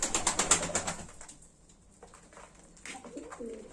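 Pigeons coo in a breeding loft, a quick series of soft rhythmic calls close by at first, then quieter scattered murmurs and a rustle or two in the calm room.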